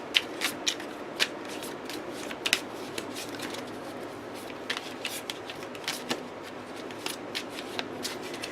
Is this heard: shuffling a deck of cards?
yes